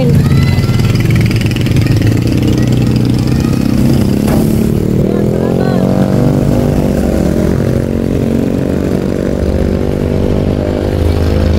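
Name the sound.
motorcycle tricycle engine passing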